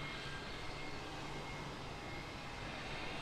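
The turbo on a Nissan Silvia S15 Spec R with a six-speed manual spools up, a steady broadband rushing whoosh with a faint whine, loud and continuous throughout, with no voices.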